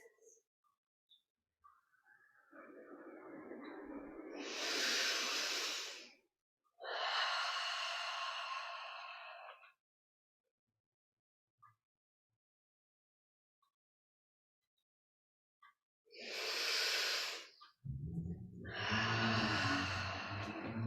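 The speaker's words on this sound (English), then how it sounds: "Stay for about 3 slow breaths." Slow, deep breaths during a morning yoga session, four long audible inhales and exhales separated by quiet pauses, close and fairly soft, with no talking.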